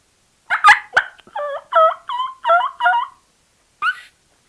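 A turkey call imitating a hen turkey cutting gives a burst of sharp, excited clucks followed by a run of rapid, evenly spaced yelping notes, loud and close, ending after a pause with one last short cluck.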